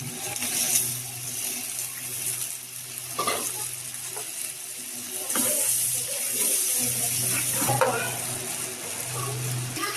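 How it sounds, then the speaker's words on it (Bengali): Water added to a pan of frying chili and turmeric powder spices for a fish curry, giving a steady close sizzle with stirring clatter and watery splashes, loud and continuous, no talking. "এবার একটু পানি দিয়ে দিলাম।"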